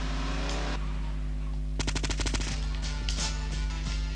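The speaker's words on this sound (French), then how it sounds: "on a bien fait récupérer le pistolet mitrailleur" Submachine gun fire in the video game GTA Liberty City Stories: a rapid, loud burst of automatic shots, then a few more scattered shots over a constant low game hum, with no voices.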